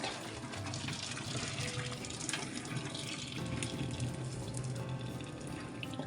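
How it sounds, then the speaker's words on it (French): Running water from a kitchen tap pours steadily as cooked rabbit legs are drained after simmering in a cast-iron pot, a continuous close splashing rush with no talk. "on coupe le feu et on égoutte"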